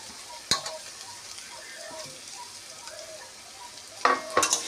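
Gima shak greens and potato frying in a pan, a soft continuous sizzle with sharp spatula scrapes near the start and toward the end, close and without talking.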